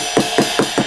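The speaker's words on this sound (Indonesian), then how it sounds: "Ini ride-nya." A ride cymbal sample from a roll-up electronic drum kit is struck four times in a steady, quick pulse over a continuous bright metallic wash, heard close with no voices.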